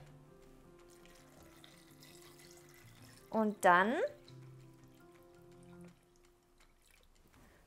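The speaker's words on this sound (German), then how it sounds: "So, jetzt kommt das Wasser damit rein." Water is poured from a vessel into a pot of beetroot soup, a short splashing burst of a second or so, with a person speaking softly before and after.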